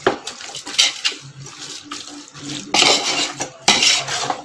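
A spoon stirs mushroom biryani masala with salt in a pot, giving bursts of scraping, clinking metal and wet mixing noise in uneven strokes, close and fairly loud with no talk.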